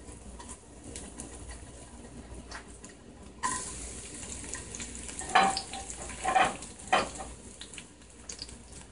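Three cloves of garlic fry quietly in a pan while cooking a Jamaican mackerel rundown with shrimp: a soft, low sizzle underlies everything, broken later by a few sharper clinks and scrapes of a utensil stirring.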